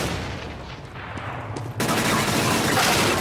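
A flashbang grenade goes off in the video game CS:GO, with a sudden broadband burst partway through that stays loud and hissy after scattered gunfire-like game noise.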